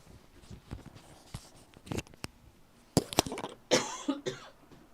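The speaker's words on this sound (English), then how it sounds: "I took my microphone off so I could cough." Several short, sharp coughs in a quiet room during a sewing session, with a couple of louder bursts near the end and scattered small handling noises between them.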